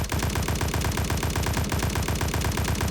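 Gun in the shooter Lost 2 (Dust) firing a sustained full-auto burst: rapid, evenly spaced loud cracks, about a dozen per second, close and continuous for three seconds with no talking.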